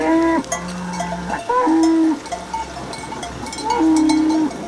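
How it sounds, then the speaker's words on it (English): Massive horned Nguni cattle lowing near a river, three long, deep moos with short gaps between them, loud and close, over faint outdoor rustle. "These massive horned beasts are Nguni cattle."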